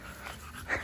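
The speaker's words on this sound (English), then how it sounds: "the funny dog, this one" A dog gives a brief, soft whimper, faint and close, with a small rising whine at the end.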